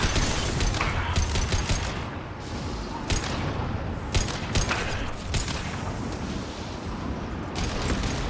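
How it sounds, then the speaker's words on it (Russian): Loud bursts of gunfire and booming blasts from the video game Mass Effect 2, several shots in quick clusters over a dense rumbling background. "Обычный выстрел."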